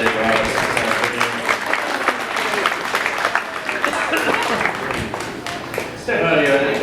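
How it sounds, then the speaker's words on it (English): Audience applause for young exhibitors at a 4-H and FFA meat goat show at a county fair, steady clapping filling the arena, with voices and a speaker talking over it. "a nice round of applause for the 7-day August this afternoon"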